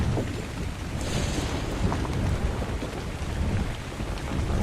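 Thunderstorm in the video game Ark Survival Evolved: steady, loud rain hisses throughout with a deep rumbling thunder roll underneath, continuous and close with no talking.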